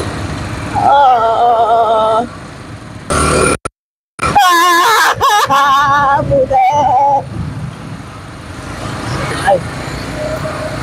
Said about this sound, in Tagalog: Ayan, yung tunog ng motor na under.